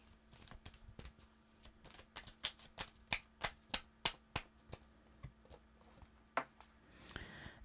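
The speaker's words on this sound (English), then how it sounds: "So let's pull a card to end with." Tarot cards being shuffled in a run of crisp, close riffling snaps that speed into an even rhythm, then fade, with a short rustle at the end.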